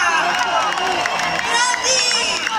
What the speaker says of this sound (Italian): facciamo un applauso Nostalgia 90!